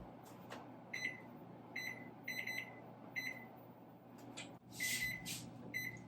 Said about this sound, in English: I'm going to set my timer for about 5 minutes, and then I'll come back and give them a flip